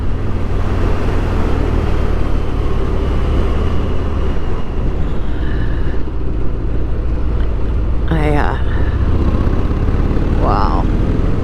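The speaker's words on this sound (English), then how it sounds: "Yeah, this is an awesome motorcycle." A 2022 Harley-Davidson Street Bob rides through the Blue Ridge foothills, its engine and wind roaring continuously and loud at close range, with a short whoop of voice over it.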